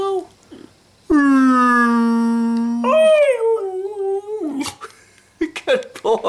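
A beagle lets out a long, loud howl followed by a wavering, wow-like yowl, then a few short broken yips, close by with no talking over it.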